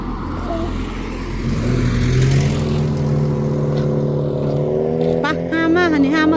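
A car arrives with a rising engine whir that swells and holds, then fades under excited voices of family members talking and calling out in Thai near the end.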